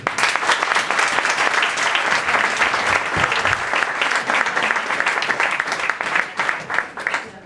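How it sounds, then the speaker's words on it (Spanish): Sustained applause from an audience at a skeptics' talk in a Madrid pub, dense and steady clapping filling the room at full strength throughout, with no speech over it. "le recibimos con un aplauso y muchísimas gracias."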